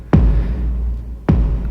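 Two heavy layered kick drum hits programmed on a Synthstrom Deluge groovebox, each a sharp punchy attack dropping into a long booming low tail, spaced just over a second apart.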